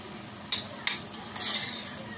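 Meat sizzles gently with butter in a steel pot, a soft crackling bed broken by a few sharp metallic clinks of a utensil against the pot.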